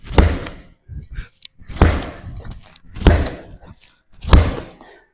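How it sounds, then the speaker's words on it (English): Medicine ball slams in a strength workout, four heavy thuds hitting the floor at a steady interval of about 1.3 seconds, loud and close, with faint breathing between. "once we're done with our rows, then I'm going into med ball slams"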